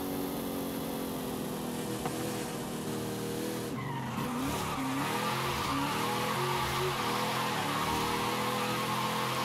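Car drifting through slides in Forza Horizon 5, a new Mercedes sleeper build, with loud sustained tire squeal and engine tone running throughout, pitch sliding and wavering as the car swings through loops.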